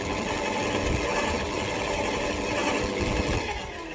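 An Ozito silent garden shredder with a big induction motor runs steadily, giving a loud, continuous mechanical drone with a low grinding rumble that holds at an even level throughout.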